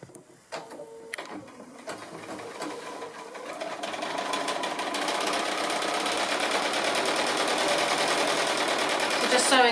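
Sewing machine running steadily while stitching a long diagonal seam on a quilt's house-block roof, starting with a few short bursts, then a continuous fast whirring hum that holds close and fairly loud to the end.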